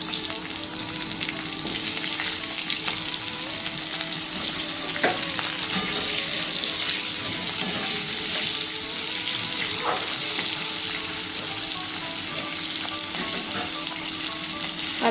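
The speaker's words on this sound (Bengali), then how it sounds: "নুন হলুদ মাখিয়ে রাখা ফুলকপিগুলো কড়াই ছেড়ে দেবো" Salted, turmeric-coated cauliflower frying in a wok makes a loud, continuous close-up sizzle and crackle that runs unbroken throughout, with faint stirring underneath and no talking.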